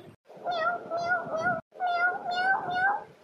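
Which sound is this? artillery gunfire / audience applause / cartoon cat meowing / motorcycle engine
cartoon cat meowing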